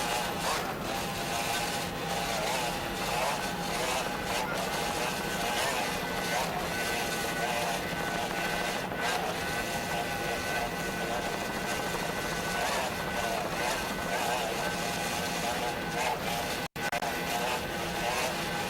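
Onboard a 28-foot Skater offshore racing powerboat during the 1993 offshore world championships at Fort Lauderdale, a loud, unbroken engine roar mixes with wind and water rush throughout.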